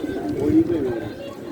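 Pigeons coo in a low, throaty murmur, steady through the clip, amid a busy crowd with people talking nearby.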